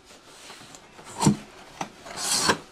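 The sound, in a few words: cardboard box being opened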